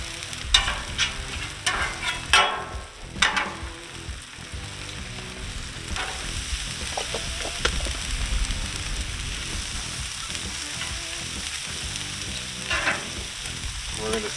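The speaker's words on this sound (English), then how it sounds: "get our bacon down. A little bit of oil on this side" Bacon sizzles and fries steadily in a little oil on a hot griddle, a dense crackling hiss with a few scraping and clattering touches near the start.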